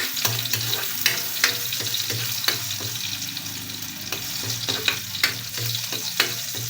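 Garlic sautés in a pan for a mung bean stew, a loud, steady sizzle close up, with repeated spatula taps and scrapes against the pan and no voices.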